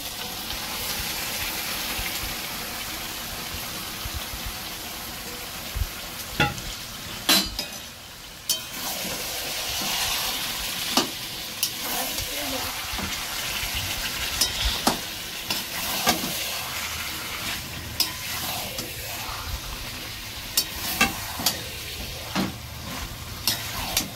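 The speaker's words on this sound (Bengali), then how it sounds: "এবার আমি পুরো মাংসটা দিয়ে এবার কষিয়ে নেব" Chicken pieces stir-fried in a thick spice paste crackle and hiss continuously, with frequent scraping clinks of a spatula against the pan scattered throughout, near and without any talking.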